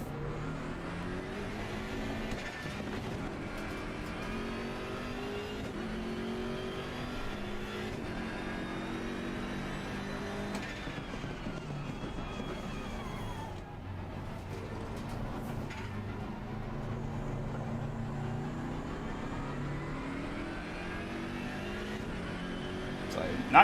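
Steady racing car engine in the Assetto Corsa Competizione driving game, revving and shifting through gears for over twenty seconds, with loud continuous pitch sweeps as the loose, spin-prone car accelerates.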